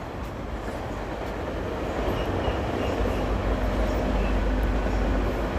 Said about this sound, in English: Oh, you got a GO train passing by.